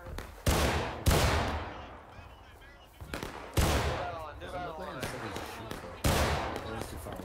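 Musket volleys in the War of Rights game crack out in sharp bursts, about five loud shots spaced across the stretch, with rolling echoes and distant battle noise between them.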